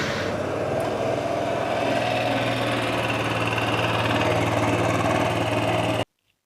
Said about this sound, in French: on va démarrer le moteur pour vérifier que le niveau soit bon